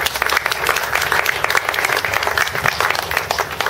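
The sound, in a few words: audience applauding welcome for Mayor Henry Martinez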